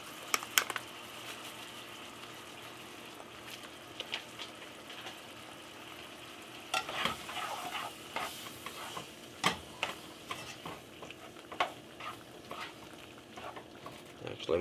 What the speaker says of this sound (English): So I'm going to brown this ground beef a few more minutes.